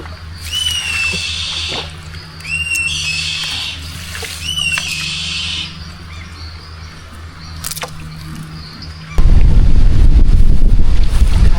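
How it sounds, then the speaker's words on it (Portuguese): Strong wind roars in gusts through trees during a rainstorm, buffeting the microphone, with bird chirps in the background; the wind surges loudly near the end. "Olha como tá ventando, pessoal. Parece que as árvores vão cair."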